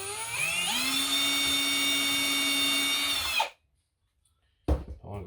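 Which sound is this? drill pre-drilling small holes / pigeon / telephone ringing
drill pre-drilling small holes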